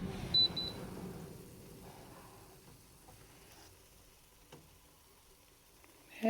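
A Fray Bentos all day breakfast pie cooks in an air fryer as it is opened: a short beep, a fading fan whir and faint sizzling, then soft clicks and a louder clunk near the end.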